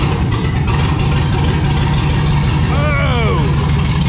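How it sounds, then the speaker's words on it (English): The Freebird car engine firing on its first start-up, a loud, rough, constant rumble filling the clip, with a voice rising briefly over it near the end. "I hit the gas twice and this sucker fired like this."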